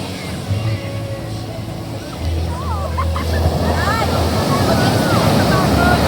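Strong ocean surf crashing and rushing ashore in a steady loud roar, buffeted by wind on the microphone, with a low engine-like hum early on and no clear talk.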